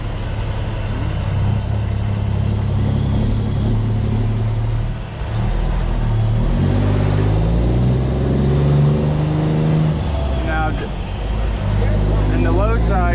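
A heavy truck with an Eaton Fuller transmission pulls away while the driver double-clutches through the gears. The loud diesel drone dips and rises at each shift, and someone talks over the engine.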